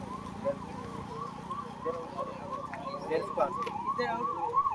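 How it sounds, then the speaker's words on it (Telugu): A wailing ambulance siren rises and falls repeatedly, fairly close, mixed with street noise and voices nearby at a road accident scene in Akkanapeta, Medak district. "అంబులెన్స్ వస్తుందా"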